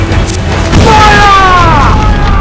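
Ship cannons fire in Assassin's Creed Black Flag, a deep booming blast landing near the start over a constant low rumble of sea and battle noise, followed by swelling tonal game music.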